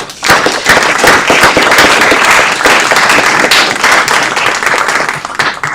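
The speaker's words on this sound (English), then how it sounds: "Let's give Alex a round of applause" A room of people at a city council meeting claps loudly and steadily, a dense close burst of applause that holds its strength for several seconds before easing slightly at the end.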